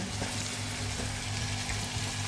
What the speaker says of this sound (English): So we're going to be frying this until it's complete.